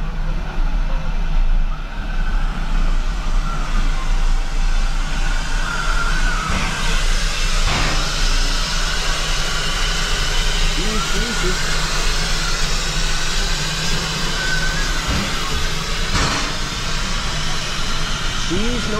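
A Yosemite Mountain Sugar Pine Railroad steam locomotive hisses loudly and steadily close by, a continuous roar of steam with people talking over it.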